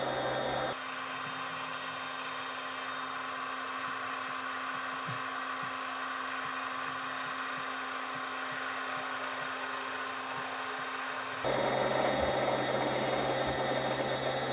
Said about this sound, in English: Now we press the start button and it starts winding the bobbin.